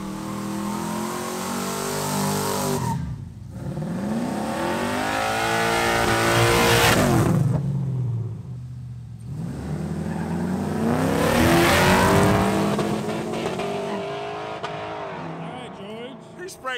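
An old LT-engined Buick Roadmaster street race car accelerates hard at a street race, its engine rising in repeated loud revving sweeps with gear changes and possible tire squeal, close and dominant, with crowd voices mixed in.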